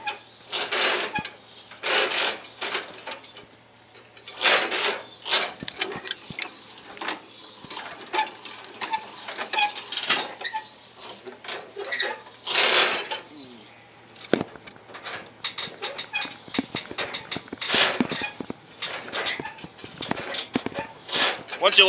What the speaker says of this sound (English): lower the trailer down with the jack onto the fifth wheel